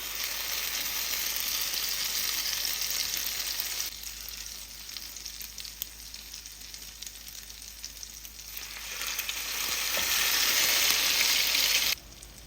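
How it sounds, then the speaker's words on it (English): Egg-dipped bread pieces frying in melted butter in a pan, a steady sizzle that quiets for a stretch and then rises to a louder hiss before cutting off. "I'm just going to take each piece and just add it to the melted butter in the pan."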